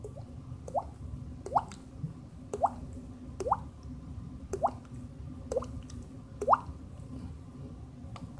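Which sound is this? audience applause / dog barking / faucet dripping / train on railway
faucet dripping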